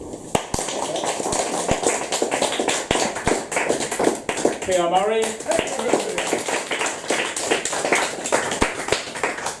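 An audience at a poetry evening applauds the poet Lisa Kelly, a dense, steady patter of clapping hands continuing throughout while a voice speaks briefly over it.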